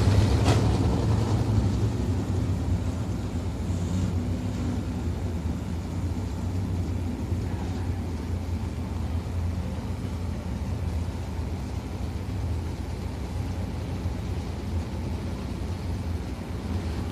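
Sprint cars at Big O Speedway make a steady, distant engine roar, a continuous low rumble with no distinct passes standing out across the whole stretch.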